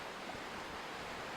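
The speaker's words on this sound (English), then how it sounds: "it looks neat with a stream running right next to you" A creek flows right beside a shaded outdoor spot, giving a steady, even rush of water that holds constant throughout without breaks or other sounds.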